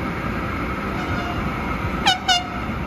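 A SEPTA commuter train arrives, with steady rail rumble and two short, bright horn blasts near the end, fairly close by.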